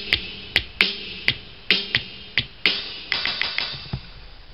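Sharp taps land on the eraser pads of an Arduino-based programmable MIDI drum kit, about a dozen close, crisp clicks in an uneven rhythm, some in quick bursts, with no talk.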